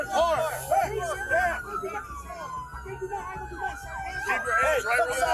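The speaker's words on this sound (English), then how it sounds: "Sirens." Police car siren wailing during a traffic stop where the squad car is pinned against a vehicle's driver's side door, its rising and falling tone sustained throughout under shouted commands from officers.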